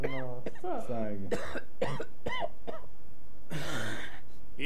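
A voice actor performs a character's coughing in a dubbed anime parody, with a string of harsh, rasping coughs and throat-clearing bursts, close and loud, broken by short pauses.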